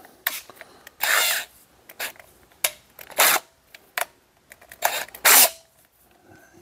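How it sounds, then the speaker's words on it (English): A drill spins a wire brush against a metal axe head in several short, harsh scraping bursts, separated by pauses and small clicks. "a metal bristle brush that I collapsed the handle down on so it would fit in the"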